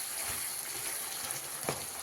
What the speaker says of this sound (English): so I just let it fry